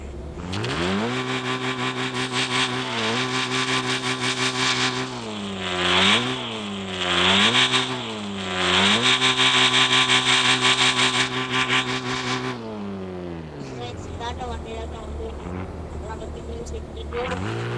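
A Honda Civic's engine revs repeatedly, climbing and falling in several close, loud pulls before settling back to a steady idle, with no talk over it.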